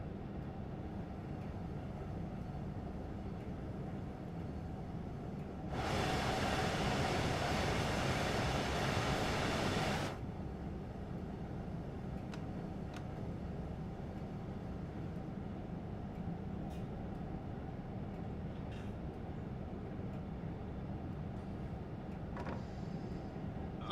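A V set electric passenger train runs on Sydney's Western Main Line in Train Sim World 5, giving a steady low rumble with a louder broadband rush lasting a few seconds midway before settling back to the drone.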